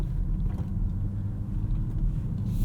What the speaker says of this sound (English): Let's get on the road, take this for a drive, and see what it's like behind the wheel